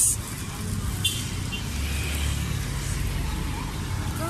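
Traffic noise rumbles during a night bus ride from Jakarta to Bandung, a steady low road and engine drone with faint higher sounds, no speech.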